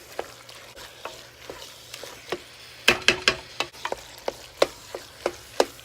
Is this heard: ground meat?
yes